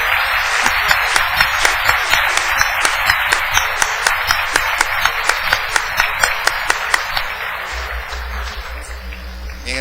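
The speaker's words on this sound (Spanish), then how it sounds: "Por favor, un aplauso." After a lecture, listeners clap in a steady, evenly paced rhythm, loud and close, sharp regular claps continuing for most of the stretch before fading near the end.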